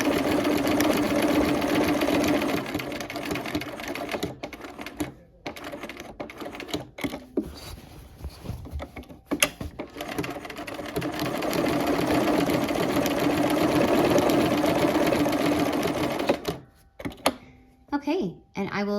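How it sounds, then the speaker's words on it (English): A sewing machine top stitching around appliqué flowers, with fast close mechanical chatter in long runs broken by pauses and short stitch bursts, as a person talks over it. "now we will top stitch around all of those flowers"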